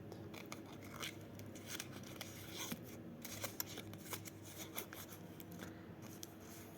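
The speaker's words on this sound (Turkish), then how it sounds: "Önce nazik bir şekilde Çikolatamızı açıyoruz." A chocolate wrapper is opened gently up close in a quiet room, with soft crinkling, rustling and small crackles coming in irregular bursts.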